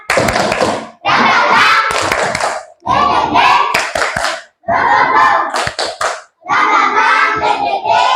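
Children in a classroom perform a rhythmic clapping chant, a spoken cheer punctuated by sharp hand claps and thumps in short bursts separated by brief pauses, loud and close.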